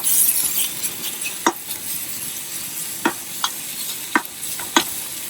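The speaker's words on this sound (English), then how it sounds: "some pre-chopped bacon. Put that in the pot. Ooh, the sizzle." Bacon sizzles steadily in a pot, close up, with a utensil clinking against the side a few times as it's stirred.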